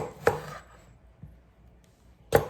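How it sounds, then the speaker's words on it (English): A knife cuts a vegetable into spears on a cutting board, giving a few separate soft chops spaced apart with quiet between them. "I'm just going to slice this in spears"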